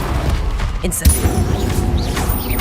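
Incendio fire spell cast in the Hogwarts Legacy PC game, a sudden whooshing burst with a thudding boom near the one-second mark, followed by crackling and rumbling combat noise that carries on to the end.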